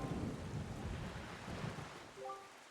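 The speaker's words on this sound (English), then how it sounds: "this place suffers under dark clouds and rain" Steady rain pours with rolling thunder over a cursed island under dark clouds in the video game The Legend of Zelda: Wind Waker HD, a continuous wash of downpour with low rumbles and a few faint tonal notes near the end.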